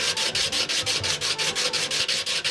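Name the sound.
sharpening Stanley 151 blade on 180 grit abrasive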